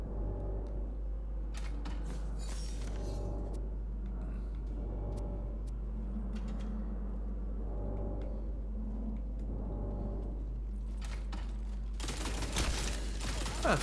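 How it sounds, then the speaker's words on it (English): A machine gun fires in Tiny Tina's Wonderlands in short repeated bursts over a steady low engine-like rumble, with a louder, harsher burst near the end. "I haven't tried a machine gun yet in this this game"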